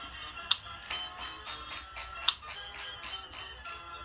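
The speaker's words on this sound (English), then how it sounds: "That's me tightening up my shoes because I have yet to actually get on the bike." Rapid repeated ratcheting clicks of cycling shoes being tightened, in quick rhythmic bursts with a few sharper clicks, close up.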